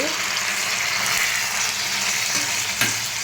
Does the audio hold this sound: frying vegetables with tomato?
yes